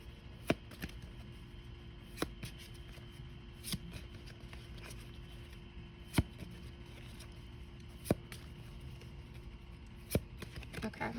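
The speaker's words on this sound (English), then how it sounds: "Okay, I need to shuffle again." Tarot cards being shuffled, giving soft, papery riffles and scattered sharp taps at irregular moments over a quiet background hiss, with no talking.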